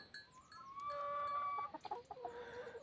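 Hens on a small French farm cluck and call in a quiet outdoor setting, a short run of tonal, bubbling clucks close by with no talking.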